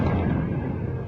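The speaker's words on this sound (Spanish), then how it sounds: "La secuencia hace parte de las explosiones en una de las dos refinerías que fueron objeto de ataques este fin de semana" An explosion at a Saudi Arabian oil refinery under attack produces a deep, loud rumbling roar that fills the whole short moment without any break.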